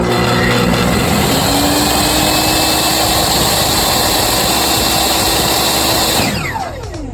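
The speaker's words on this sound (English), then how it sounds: "this saw has a soft start and an electric brake" A Hitachi C-10RJ jobsite table saw with soft start and electric brake runs at a loud, steady whining drone, then winds down quickly near the end as the blade stops.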